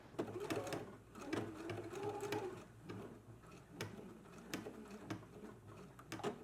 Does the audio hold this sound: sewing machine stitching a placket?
yes